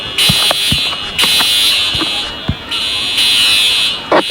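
A school fire alarm sounds in loud, repeating buzzing blasts with short gaps between them, and people talk over it.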